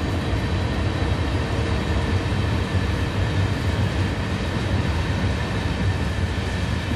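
A locomotive running in the railway game Train Sim World 2, a loud, continuous rumbling drone with steady mechanical noise throughout and no one talking.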